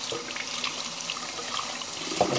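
Warm water runs steadily from a tap into a sink, a soft close splashing stream with small bubbling flickers, heard alone over a couple of seconds.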